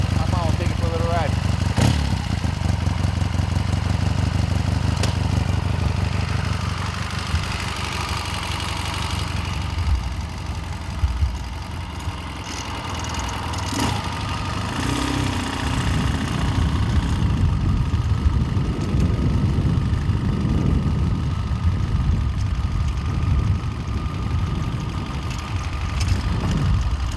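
A 1979 Triumph Bonneville Special 750 motorcycle engine runs loud and close, idling before pulling away into a ride with rising and falling revs, while a voice speaks at times over it.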